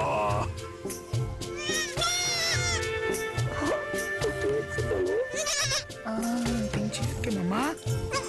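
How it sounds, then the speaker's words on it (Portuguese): Two-day-old newborn goat kids bleating repeatedly with high, wavering cries close by, over steady outdoor background noise and occasional talking. "Dois filhotes do bode invocado."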